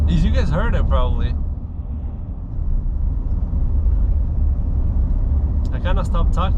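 Low, continuous diesel drone from a Nissan Titan XD 5.0L Cummins with a CFT intake pipe, running steadily while someone talks at the start and end.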